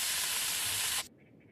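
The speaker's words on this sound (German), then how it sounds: "Alles klar, das war Raumspray." An air freshener spray can hisses in one loud, steady burst for about a second, then cuts off abruptly, leaving faint background tones.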